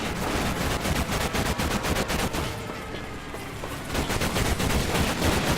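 Sustained machine gun fire rattles on in a Medal of Honor Pacific Assault battle aboard a ship, a dense, loud stream of rapid shots with overlapping bursts and no letup.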